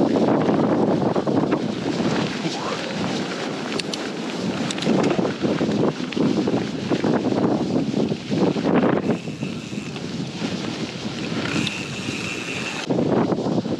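Strong wind buffets the microphone continuously during an outdoor ride beside a railway line, a loud broadband roar with gusty surges throughout, no voices.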